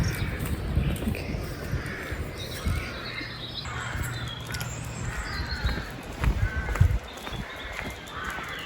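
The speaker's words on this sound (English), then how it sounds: "we have lots and lots of crows" Crows cawing in huge trees, repeated harsh calls at varying distances over an outdoor background, fairly faint and scattered through the clip.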